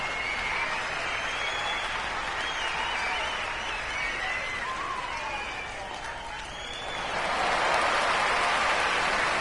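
A rowdy arena crowd in the basketball game NBA 2K24 keeps up a steady, dense roar of cheering and clapping, swelling louder near the end.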